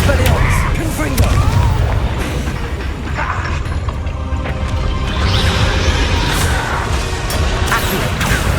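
Confringo explosive spells blast repeatedly during Hogwarts Legacy combat, producing loud, continuous booming crashes that pile on one another without a break, with voices faintly mixed in.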